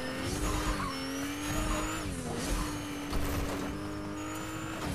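Car engine droning steadily in the Fortnite video game, a sustained tonal whine that dips briefly near the middle and then holds, with skidding-like texture underneath and no talk.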